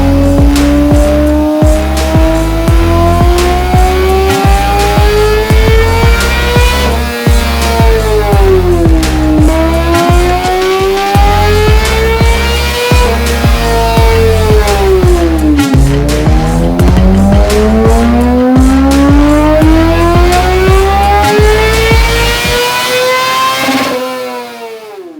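A 2019 Yamaha R6 sport bike fitted with an M4 exhaust, silencer removed, revs loud and close with sharp rising and falling engine sweeps and rapid popping pulses, sustained throughout before cutting off at the end.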